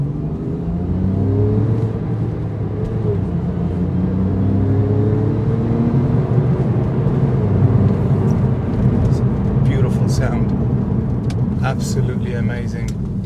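Porsche 911 Carrera 4S PDK (997.2) flat-six engine droning loudly and steadily after a downshift to second in sport mode, a continuous low rumble with rising harmonics throughout, no speech over it.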